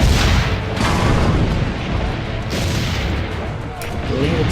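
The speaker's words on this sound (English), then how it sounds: "Load the cannon." Cannon fire in the video game Assassin's Creed: Brotherhood: heavy booms and blasts in a dense, loud battle din, with voices shouting over it.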